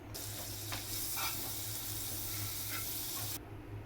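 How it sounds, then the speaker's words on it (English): Butter sizzles steadily in a hot pan, a close, continuous crackling hiss that holds at an even level for a few seconds before cutting off abruptly. "Add some butter to a pan."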